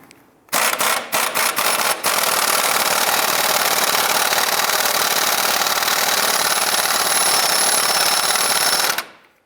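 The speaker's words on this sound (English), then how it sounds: "Using an 18mm socket, we're going to go ahead and loosen and remove the outer tie rod and nut." An 18mm socket on an impact gun loosens the outer tie rod nut on a Ford Fiesta, with a few short bursts and then a long, loud, continuous hammering rattle that cuts off abruptly.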